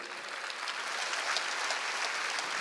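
A congregation claps together at a large evangelistic revival meeting in an indoor gymnasium, a steady dense wash of applause filling the hall without a break, with no voices standing out.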